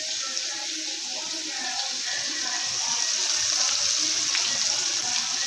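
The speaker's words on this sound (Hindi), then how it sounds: "इसको ऑयल में डालेंगे।" Fish pieces frying in hot oil give a steady, close, loud sizzle with a dense hiss that holds evenly throughout, thickening slightly toward the end.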